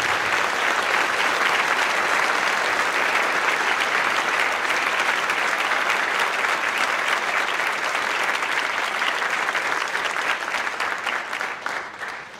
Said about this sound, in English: give them another round of applause for all of their work